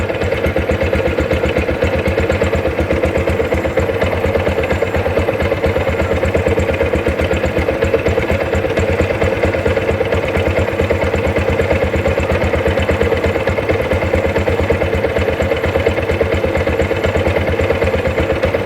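A motorcycle engine idling steadily while it warms up in the morning, giving a loud, continuous, evenly pulsing rumble at close range with no break and no talk.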